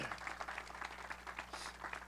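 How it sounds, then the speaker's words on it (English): A crowd claps steadily at a university ribbon-cutting ceremony in Ohio, a soft, even patter of many hands heard from a distance with no talk over it. "Give us another round of applause."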